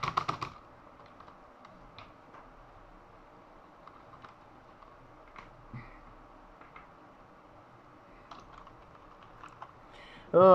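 Faint keyboard typing sounds as a mouse and keyboard are hooked up to a PS5 Digital Edition: scattered quiet key clicks spread across a mostly hushed room, with a louder bump at the very end.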